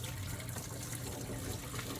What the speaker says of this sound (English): the pot of boba with the water into the strainer into the sink